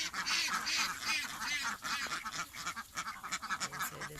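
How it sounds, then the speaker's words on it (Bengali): Ducks on a duck farm, with larger and smaller birds kept in separate pens, quack and honk in a loud, overlapping chorus of repeated calls close by. "এই হলো বড় হাঁস, আর এই পাশে পার্টিশন করে এই সাইডে ছোট হাঁস রাখছি"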